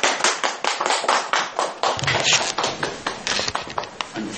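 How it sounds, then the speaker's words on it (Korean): Audience clapping for an introduced guest speaker, a pastor, at a talk, a steady patter of close, distinct hand claps continuing throughout without speech. "박수"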